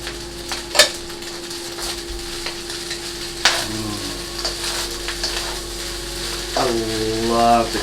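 Vegetables and eggs stir-fry in a carbon steel wok for spicy pineapple fried rice, with a continuous close sizzle and occasional scraping and clanking of a utensil against the pan.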